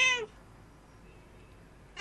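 A cat gives two separate meows, one at the start and one at the end, with quiet room tone between and no talk.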